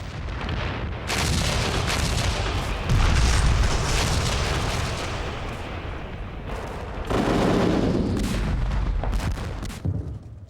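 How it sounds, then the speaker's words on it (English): A Soviet artillery bombardment rumbles with heavy booms and overlapping blasts, loud and dense, surging in waves through the stretch with no voices. "The evacuation was interrupted by a Soviet artillery bombardment."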